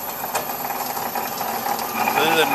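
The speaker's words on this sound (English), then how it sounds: "I'm set cutting about a 1/4 inch stock piece. It'll finish this first cut." A ferrous band saw cuts through 1/4 inch solid steel stock held in an indexing vise, giving a steady, loud mechanical grinding whir that holds throughout and builds slightly toward the end.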